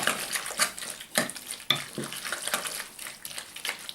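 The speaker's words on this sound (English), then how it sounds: "Then we'll give it a good stir." Cherry pie filling stirred in a bowl, with a series of close, uneven scraping and clinking strokes and a soft wet churning running underneath, and no voice.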